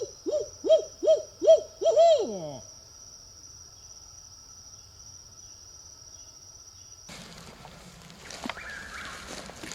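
A barred owl gives a series of five rhythmic hoots rising to a short raucous flourish, over a steady high insect drone, then quiet woodland rustling, in a Florida morning woods.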